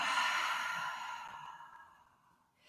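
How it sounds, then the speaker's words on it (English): A long, soft exhale through the mouth during a morning breathing exercise, fading gradually to near silence before a faint new breath begins. "So we inhale, expand the chest, pause the breath, and exhale."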